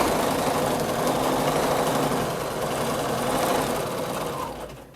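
A sewing machine runs continuously during free motion quilting, a close steady mechanical whir and rapid needle chatter that eases off slightly at the end.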